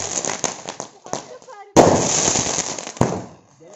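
Diwali firecrackers burst in a rapid string of sharp cracks, then a much louder bang sets off a dense, sustained crackle. One more sharp pop lands near the end, and voices are faintly audible under the bursts.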